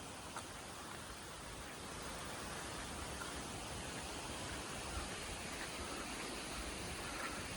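Steady, dense broadband hiss of a forest ambience in rural Idukki, Kerala, like rain or rushing water through trees, constant and fairly loud throughout with no voices.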